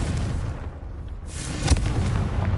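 A blasting-spell explosion in a video game, a muffled boom rising out of a low rumbling bed, with one sharp burst near the end and no talk.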